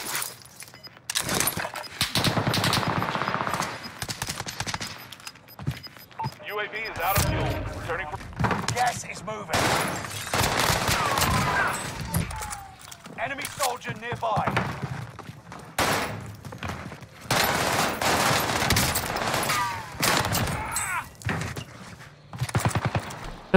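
Gunshots from Call of Duty Warzone on Rebirth Island crack out in short separated bursts and single shots, loud and close, with players talking between them.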